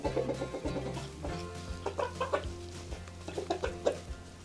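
White Leghorn laying hens cluck close by in a short run of soft, irregular calls over a low background hum, with no one speaking.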